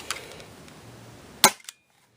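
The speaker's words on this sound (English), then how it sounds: "If you want to maximize your CO2 cartridge, you don't fire this fast." Umarex Rekt OpSix CO2-powered Nerf pistol under a rapid-fire stress test: a few faint pops, then one loud sharp close shot followed by two quicker smaller cracks before silence.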